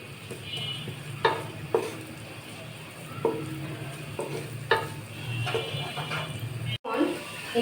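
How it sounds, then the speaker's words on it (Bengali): Sliced onions frying in a pan over medium heat for beef biryani, a steady soft sizzle broken by several sharp stirring scrapes and clatters spaced through the sound. "পেঁয়াজটা একটু ব্রাউন ব্রাউন কালার করে ভেজে নিব।"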